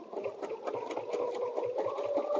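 Sewing machine steadily stitching a bed runner quilt along a template, a continuous mid-pitched motor hum with rapid needle pulses, close and loud with no voices.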